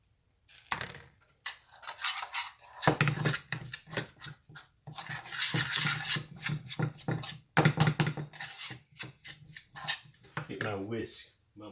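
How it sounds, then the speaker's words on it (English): Quick irregular metal clinks and scraping of a whisk against a bowl while mixing pasta bake ingredients with breadcrumbs, in bursts with pauses, close and moderately loud. "My whisk can do a better job than the spoon."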